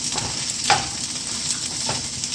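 Okra and goat meat masala sizzling quietly in a pan as a spoon stirs it slowly, giving a few soft scrapes over a steady low frying hiss.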